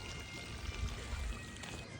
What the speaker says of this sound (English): Wow, water feature.